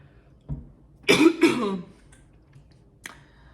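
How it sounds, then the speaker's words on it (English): A single faint thump, then two sharp coughs close together, with a small click afterward and otherwise quiet. "I don't know why I had to cough all of a sudden."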